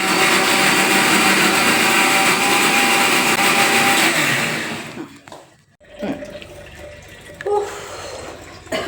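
A kitchen mixer grinder blending food, its loud whirring roar running for several seconds before cutting off, followed by quieter clatter and handling noises.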